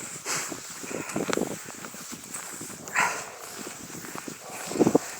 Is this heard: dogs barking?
yes